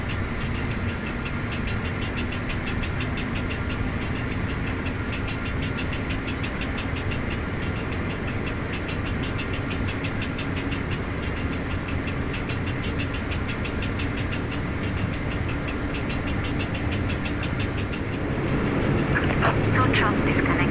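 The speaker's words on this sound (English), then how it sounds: "so we're going to start engine 4 first." Engine 4 of an airliner starts up with a steady, dense roar and a low tone that slowly climbs as it spools, heard continuously and close throughout.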